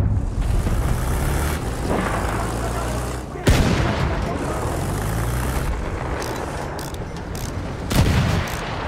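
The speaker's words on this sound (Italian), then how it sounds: "Mitragliatrice nemica localizzata!" Dense battlefield gunfire and explosions from the Battlefield video game, with heavy rumbling vehicle or tank noise underneath; a loud burst of shots around the middle and another near the end, with muffled voices mixed in.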